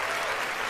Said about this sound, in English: Let's give Genevieve a round of applause.